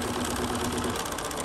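Embroidery machine stitching an outline around a small quilt block, a steady fast mechanical whir with rapid needle chatter running continuously and close up.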